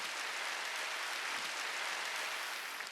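Sustained applause from a church congregation during a Wednesday worship service, a dense even wash of clapping held steady throughout.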